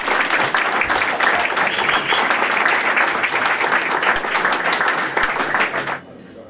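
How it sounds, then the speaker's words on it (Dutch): A hall audience at a royal decoration ceremony at a futsal club gives loud, dense, sustained applause that cuts off sharply near the end, leaving quiet room tone. "Een groot applaus, dames en heren."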